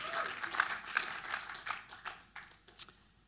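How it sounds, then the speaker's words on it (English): Congregation at a Thursday night church service clapping for the musicians, a dense patter of hand claps that tapers off over a few seconds, with a little talk mixed in. "Give them a clap."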